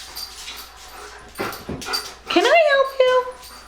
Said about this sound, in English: And my dogs are growling